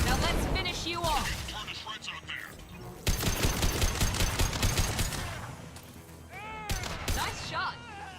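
Rapid gunfire in a Mass Effect 2 firefight comes in dense, crackling bursts of automatic shots with brief gaps between them, loud and close, mixed with metallic weapon effects and the chatter of squadmates.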